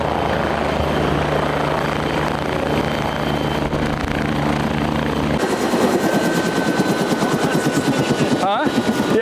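A loud helicopter thuds steadily nearby, its rotor chop growing sharper and more pulsing partway through, with a brief interruption near the end.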